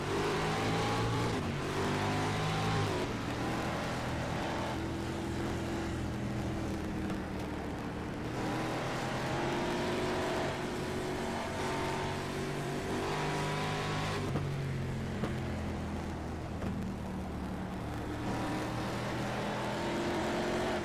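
Race cars in an iRacing sim race roar as the green flag drops on a restart, engines revving and shifting up in repeated rising sweeps, loud and continuous as the pack accelerates together.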